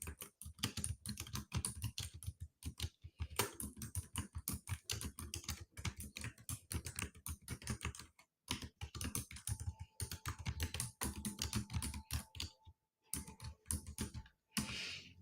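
Typing on a computer keyboard: close, rapid clicking keystrokes in uneven bursts with brief pauses, steady for about fifteen seconds and alone, with no talking.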